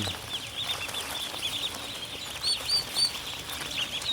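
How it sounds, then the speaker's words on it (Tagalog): Itik Pinas ducks on a duck farm in the Philippines make faint, distant calls and chatter over a soft, steady background. "Yan ang ating Itik Pinas."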